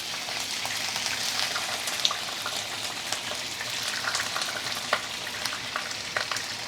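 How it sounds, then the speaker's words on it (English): Prawns fry in oil heated to smoking point, giving a dense steady sizzle with small pops and spatters. "Heat up some oil to smoking point. Then you will dry up your prawn and put it in."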